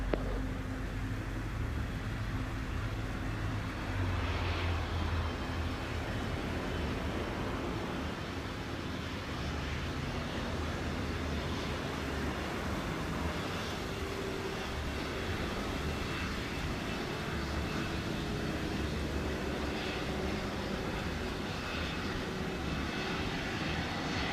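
A JetBlue airliner at Montego Bay airport in Jamaica, a steady broadband jet engine roar that holds at moderate distance for the whole span without talk.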